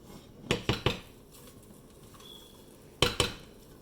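A spoon or ladle clinks and scrapes against a pot while dal palak is stirred: a quick burst of three knocks, a pause, then two more, fairly close and with no talk.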